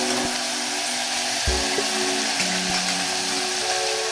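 Ginger garlic paste sautéing with mutton in a hot pan gives a steady, close sizzle with a thump or two from stirring, and no talk over it.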